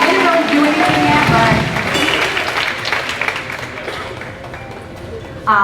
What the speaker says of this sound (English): Kind of give them a round of applause.